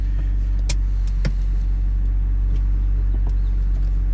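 A BMW E46 M3 sits with its engine idling in a steady low rumble, close and constant, with a few faint clicks and no talking.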